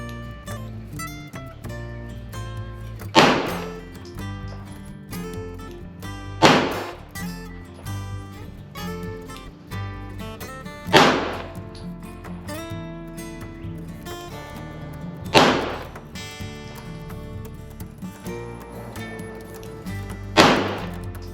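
A Glock 17 pistol fires five evenly spaced shots on a range, each a sharp loud crack with a short decay, over a faint background and without voices.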